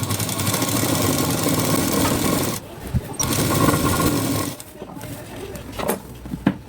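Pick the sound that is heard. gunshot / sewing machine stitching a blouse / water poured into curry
sewing machine stitching a blouse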